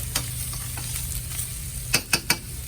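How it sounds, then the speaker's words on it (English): Red onions and garlic sizzle in a hot skillet, a soft continuous frying hiss with a few sharp stirring clacks near the end, no talking over it. "So first we have our skillet going. We're going to put in our red onions and garlic."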